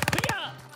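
A rapid automatic weapon fires in Call of Duty Warzone on the Caldera map, a tight string of about six close, loud shots that ends abruptly, followed by a short fading tail.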